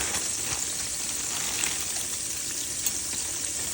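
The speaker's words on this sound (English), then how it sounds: "So we're waiting for my pork chops to fry up" Close, steady crackling sizzle of pork chops frying in hot fat, continuous with small pops and no talking.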